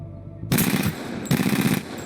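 Rapid automatic gunfire from the video game Apex Legends comes in two loud, close bursts of about three-quarters of a second each, separated by a brief gap, with no voices.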